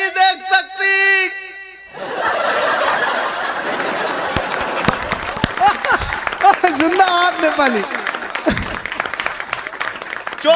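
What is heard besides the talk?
audience applause at Hindi comedy poetry show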